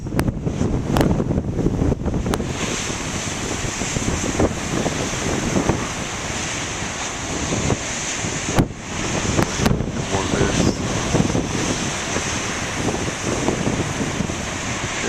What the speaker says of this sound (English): See, the wind is coming from the west now, so it's probably repelling the big waves.